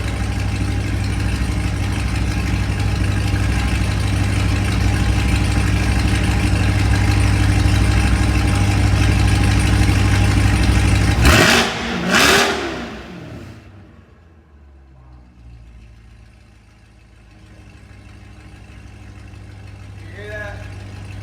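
A C8 Corvette fitted with 2M Fabrication high flow cats idles with a steady low rumble, then gives a couple of sharp, loud revs. The engine then drops back to a quiet, distant idle.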